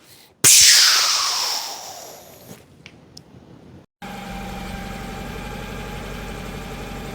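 An Aussie Ford car engine starts with a loud burst and settles into a steady idle, followed by a cut to a different, rougher sustained engine drone.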